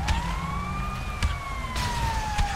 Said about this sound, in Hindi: आओ एम्बुलेंस वाला भी आया,